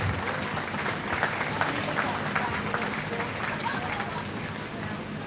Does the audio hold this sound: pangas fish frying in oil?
no